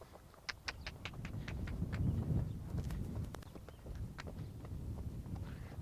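A horse moves through a show jumping training exercise over cross and vertical fences, its hooves clip-clopping in a quick rhythm at moderate distance over a steady low outdoor rumble and light wind, with no talking.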